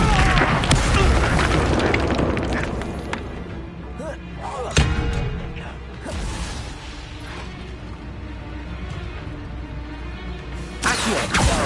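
Fire spell cast in the video game Hogwarts Legacy, heard as a dense, loud whooshing burst with booming, rumbling impacts and a sharp thud midway, amid busy combat effects.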